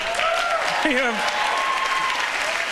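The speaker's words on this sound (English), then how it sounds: "You're applauding that?" Audience applause at a stand-up comedy show, a dense, steady wash of clapping that carries through the whole stretch while a voice speaks over it.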